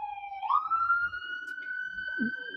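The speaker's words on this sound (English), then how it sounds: "you will hear sirens and ambulances every now and then" An emergency siren near a hospital by a river rises into a steady wailing tone that holds across the clip, with faint low background noise beneath it.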